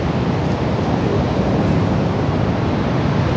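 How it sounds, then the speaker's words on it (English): Wind gusting across the open sand at Bondi Beach, a steady loud rush buffeting the microphone throughout, with no voices. "Ooh, it's a little windy. We're getting a bit of wind."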